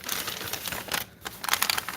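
Delicate packaging rustled and crinkled while being opened at home, close and steady crackling with a brief pause midway, no talking.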